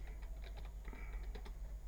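Rapid typing on a computer keyboard in a computer repair shop setting, a quick stream of light, close key clicks over a steady low electrical hum, with no talking.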